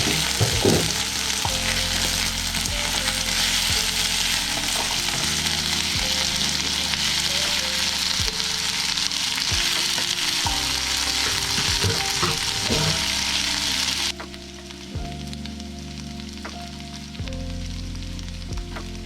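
Potatoes, peas and whole spices fry in a pan with a loud, continuous sizzle while a spoon stirs and scrapes through them, then the hiss drops noticeably quieter near the end.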